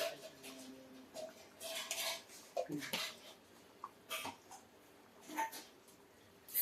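A spoon stirring fish curry in a pot, light clinks and scrapes against the metal in irregular bursts, fairly quiet, with no speech.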